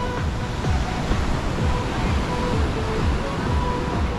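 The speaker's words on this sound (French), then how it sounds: "regardez les vagues." Ocean waves roll in beneath Santa Monica Pier, a loud broad wash of surf with wind buffeting the microphone, steady throughout without talk.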